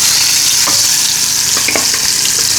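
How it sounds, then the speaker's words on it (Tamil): Fish sizzling as it fries in hot oil in a home kitchen, a steady loud crackle with scattered sharp pops and a few stirring clinks, no voices. "இப்போ மீனை பொரிச்சிடலாம்."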